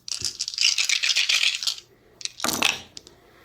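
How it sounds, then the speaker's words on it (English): Eight dice clatter and rattle across a board game surface in two rolls, a bright skittering tumble lasting over a second followed by a shorter second roll, close and clear with no talk. "she will roll 8 dice in defense at 4"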